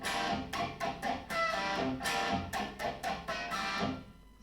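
An electric guitar plays a fast, choppy death metal riff, with a string of sharp, distorted picked and tapped hits and muted gaps at a steady rhythm. It sounds close and unaccompanied, with no talking.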